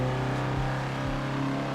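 A car pulls hard through a tight left turn at low gear, engine droning loud and close with steady harmonic tones and a slight pitch dip as it loads up.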